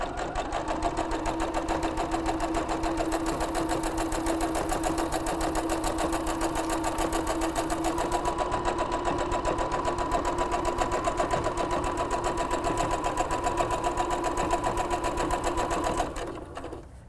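A sewing machine runs a straight stitch along a 3/8 inch seam on a bath towel, a steady continuous mechanical whir with rapid needle ticking that stays loud and unbroken for about sixteen seconds before stopping.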